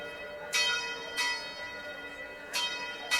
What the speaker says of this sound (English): hit the bell again